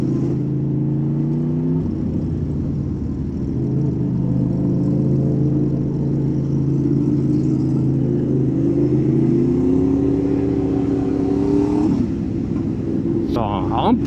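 A motorcycle moves through winter traffic, its engine droning steadily with rising and falling revs, while a rider talks over the continuous road noise.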